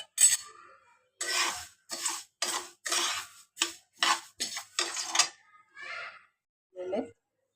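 Halim (garden cress) seeds are roasted in a pan, stirred in about a dozen quick, rhythmic scraping strokes with dry rattling and clinking, close and fairly quiet, then trailing off.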